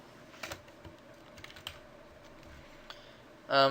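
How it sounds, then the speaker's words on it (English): Keys tapped on a computer keyboard while entering text in Photoshop, a sparse run of quiet clicks at an uneven pace, close by, ending in a brief louder burst. "You click on this, you can type stuff."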